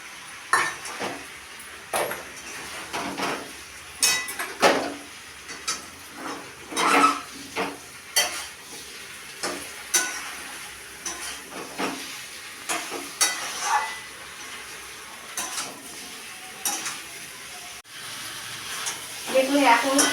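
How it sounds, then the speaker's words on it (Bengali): Fried potatoes stirred into a jackfruit curry as it sizzles in the pan, with a spoon scraping and clinking against the metal in uneven bursts over a steady low sizzle. "এবারে দিয়ে দেবো ভাজা আলুগুলো।"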